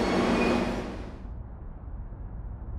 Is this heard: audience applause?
no